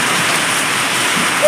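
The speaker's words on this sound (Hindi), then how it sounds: "बहुत ज़बरदस्त बारिश हो रही है।" A loud, unbroken roar of heavy rain pounding on surfaces, close and constant throughout.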